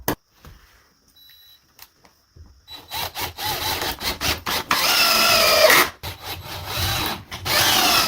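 A power drill bores into the wooden logs of a small off-grid cabin in the wilderness, giving loud close bursts of grinding and whirring. After a quiet start with scattered knocks, the bursts come in repeated short runs and a few longer pushes.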